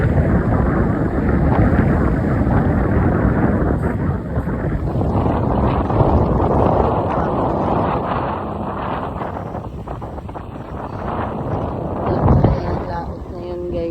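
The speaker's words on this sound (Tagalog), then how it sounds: "ang lakas ng hangin dito sa boulevard" Strong wind roars and buffets the microphone continuously, a loud rushing blast on a seaside boulevard with no letup.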